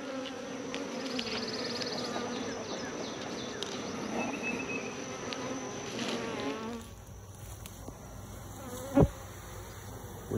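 Honeybees hum in a dense, continuous drone around a frame pulled from a swarm trap, close up, easing slightly in the later seconds, with one brief knock near the end.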